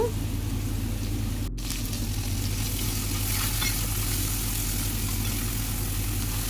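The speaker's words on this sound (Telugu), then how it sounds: "ఈ ఉల్లిపాయలను కూడా ఆయిల్లో ఫ్రై చేసుకుని బాగా మగ్గనివ్వాలన్నమాట" Onions fry in oil in a pan with a steady, moderately loud sizzling hiss that runs unbroken except for a momentary dip early on.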